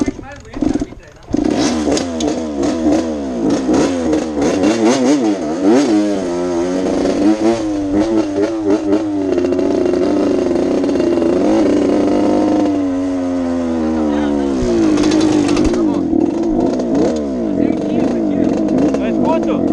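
A Honda CR80 motocross bike's small two-stroke engine revs and wavers through rising and falling pitch sweeps, loud and close, with a brief dip early and people talking over it.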